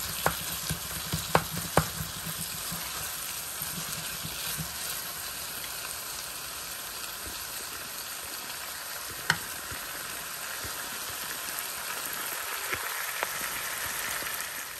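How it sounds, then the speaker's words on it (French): Onions and tomatoes cook in a pan with a faint, even sizzle that holds steady throughout, broken by a few isolated clicks. "Je vais laisser maintenant l'oignon, mes oignons cuire ainsi que les tomates."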